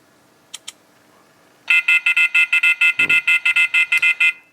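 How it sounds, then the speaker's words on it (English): A Launch ScanPad 071 automotive scan tool sounds its warning alarm: a loud, steady run of about fourteen rapid electronic beeps pulsing in even rhythm, preceded by two faint short clicks. "That's just an alarm so you don't leave the thing in there."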